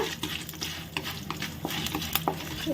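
Sambar dal and urad dal fry in a pan, giving a steady close crackle and sizzle, with soft stirring scrapes and small clicks through it and no talking.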